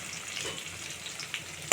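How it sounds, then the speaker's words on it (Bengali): Faint, soft sizzling of onions frying in a pan, quiet and steady, ending with a sharp clatter. "পেঁয়াজটা ভাজা ভাজা হবে বন্ধুরা"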